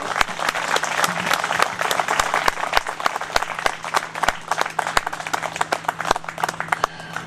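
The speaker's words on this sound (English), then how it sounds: "Let's have a round of applause for Mr." A Memorial Day crowd in Hyde Park applauds Mr. Ralph with steady, dense clapping and a few sharp claps standing out nearby, sustained evenly throughout with no voices over it.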